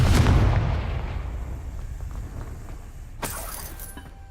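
A fire-spell blast from the video game Hogwarts Legacy booms at the start and rumbles as it decays over several seconds, followed by a brief sharp crackle near the end.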